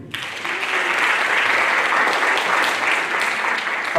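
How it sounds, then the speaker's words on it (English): Loud, sustained audience applause at a track awards ceremony, a dense wash of clapping that starts abruptly and holds steady throughout. "How about we hold all applause until we give all participation"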